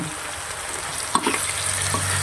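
Sautéed coconut is stirred into a sizzling botok mixture in a pan, steady frying hiss with a few scraping stirs and soft clunks near the middle, close and alone.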